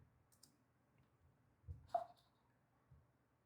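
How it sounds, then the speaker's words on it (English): Keys pressed on a keyboard while setting up a Mac Mini: a few sparse, quiet clicks, with one sharper keystroke standing out against near-silence. "it's registering that I'm pressing keys"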